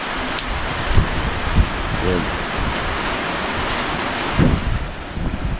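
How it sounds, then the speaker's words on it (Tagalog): Heavy rain during a stranded stop on a Manila to Matnog, Sorsogon bike ride with the sea nearby, a constant loud broadband hiss mixed with wind, and a brief voice speaking over it. "Grabe lakas ng ulan."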